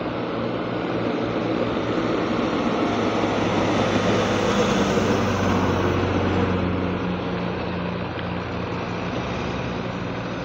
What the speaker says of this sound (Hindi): इस तरफ दूसरी गाड़ियाँ जाती हुई देखिए